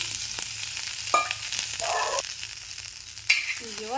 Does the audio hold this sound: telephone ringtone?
no